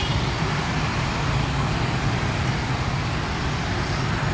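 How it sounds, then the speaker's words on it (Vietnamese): Dense, continuous roar of a traffic jam in Saigon's District 4 and District 7, with cars, buses and motorbikes packed together, a steady low rumble of engines close by and no speech. "Quá là kẹt xe mọi người."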